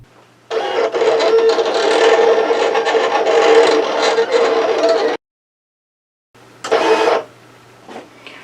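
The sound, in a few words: Silhouette Cameo 4 cutting machine drawing with infusible ink pens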